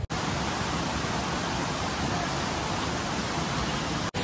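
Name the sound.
Savatkada waterfall, Rajapur, Konkan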